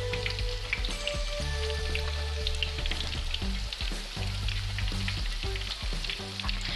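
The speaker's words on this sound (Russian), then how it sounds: "Пока будут обжариваться ребрышки" Pork ribs fry in a hot skillet, a dense, steady sizzle and crackle close up with occasional spits and pops, no voices.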